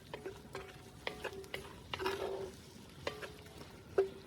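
Food fries in oil, butter and bacon fat in a pan over a campfire for chicken chasseur, with a quiet sizzle under occasional clinks and scrapes of stirring, close by and with no voices.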